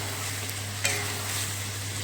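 Masala sizzles and fries in a pan for potato curry while being stirred, a steady crackling hiss with a brief scrape of the spoon near the middle.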